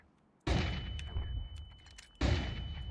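A flashbang grenade going off in a tactical shooter game: two sharp loud bursts about two seconds apart, each with a bright ringing tone and a decaying rumble, no talk over them.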